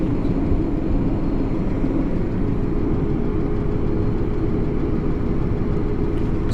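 A tractor runs with its PTO engaged during a wheat harvest, a steady, loud low engine drone with rattling vibration from the shaking grain cart, continuous and close, with no talk.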